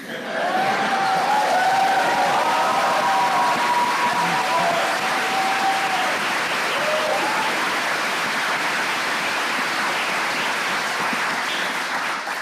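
Sustained applause from a large political party conference crowd, a dense steady patter of many hands clapping for several seconds, with faint voices and cheers mixed in.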